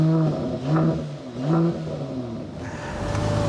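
A 2023 Mercedes-Benz GLE53 AMG engine hums steadily while driving, with its revs swelling and easing in a few smooth waves under a constant cabin drone. No voices.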